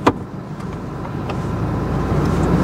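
A 2023 Toyota Fortuner crawling off-road in four-wheel-drive low range, its engine a steady close rumble that builds slightly, with a sharp knock at the start and a few brief clicks.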